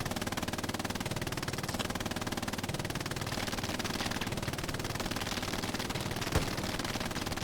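A machine gun fires in the online war game Hell Let Loose, with rapid, evenly spaced bursts rattling continuously from a dug-in MG position, dense and loud, with a sharper crack near the end.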